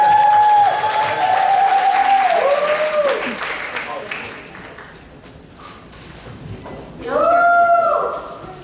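Crowd clapping and cheering, loud at first, easing off midway, then swelling again with whoops near the end.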